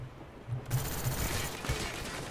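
M16 rifle fire in the video game Call of Duty: Black Ops, a burst of close, loud automatic shots cracking in quick succession over a busy battle din.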